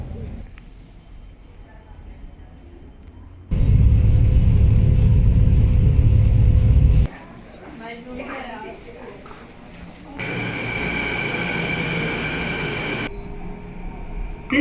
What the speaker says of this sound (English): This train is for YVR Airport.